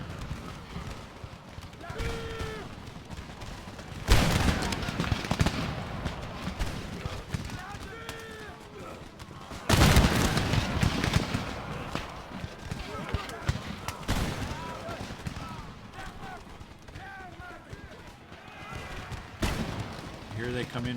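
Musket volleys crack out from massed infantry lines in the Empire Total War video game, three loud sharp bursts spread across the stretch, with lighter scattered shots and battle noise between them.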